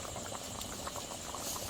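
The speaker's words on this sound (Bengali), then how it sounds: "ঝোলটা ভালোভাবে ফুটে গেছে।" Curry gravy bubbles in a pot with fried bogo fish and taro, a steady soft simmering hiss and gentle bubbling close up with no talk.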